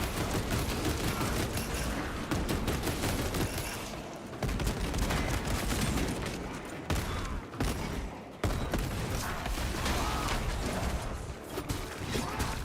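Sustained heavy gunfire in Space Marine 2 as cultist Zangors are gunned down: dense, rapid automatic shots with mechanical clatter pour out loud and close, broken by a few brief pauses before resuming.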